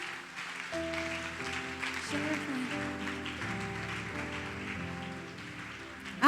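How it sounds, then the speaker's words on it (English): Clapping from the crowd at a closing ceremony, a dense patter of many hands that carries on steadily for several seconds. Sustained musical tones play underneath, and a louder burst comes at the very end. "Keep clapping, keep clapping,"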